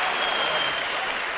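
Sustained applause from a boxing crowd after the first round of a lightweight bout, a dense steady roar of clapping filling the arena without pause.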